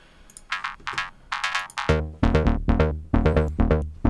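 Raw Moog Subsequent synthesizer tone with no effects, a run of short plucked notes in a steady rhythm, dry and clipped, with a deeper bass layer joining halfway through.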